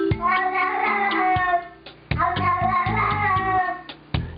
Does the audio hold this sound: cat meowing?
yes